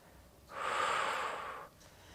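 During a Pilates exercise with a ball, a single audible exhale pushes out as a breathy hiss lasting about a second, close and fairly soft, against quiet room background.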